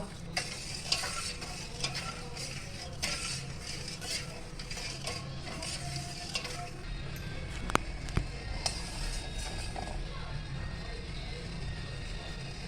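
A spoon stirs and scrapes sugar syrup in a pan over a faint, steady sizzle, with occasional light metallic clinks; quiet and close.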